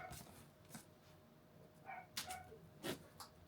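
A dog barks a few times indoors, faint and somewhat distant, with short yips and whimpers spread across a quiet room.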